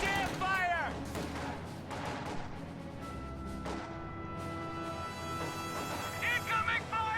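A strategy video game battle with distant gunfire and artillery: scattered cracks and dull booms over a constant rumble, with talk running over the top.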